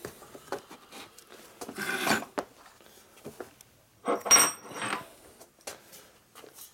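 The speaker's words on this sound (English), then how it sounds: "I do a little fine tuning grinding with an appropriate tool." A metal part is filed and ground by hand with a hand tool on a table, giving intermittent rasping strokes, with louder scraping bursts near the middle and later, and no talk.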